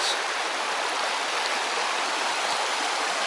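The River Lledr rushes through its valley at low water, a steady, dense broadband roar of flowing water heard up close and loud with no voices.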